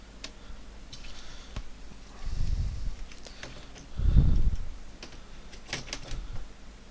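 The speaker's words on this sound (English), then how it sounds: "Yes, let's put the keyboard in." Light plastic clicks and ticks as a keyboard is fitted into an Atari 800XE computer case during reassembly, broken by two duller, low thumps as parts settle into place. Close, fairly quiet, with no talk.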